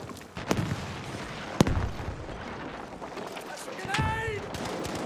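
Gunfire exchange in Battlefield V, with a few sharp, loud shots and scattered distant firing and explosions, while someone talks over the action.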